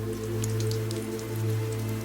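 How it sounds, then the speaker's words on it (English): Rain falls steadily on a car during a night highway drive, a constant patter layered over a low road and engine drone, even and unbroken throughout. "Just rain."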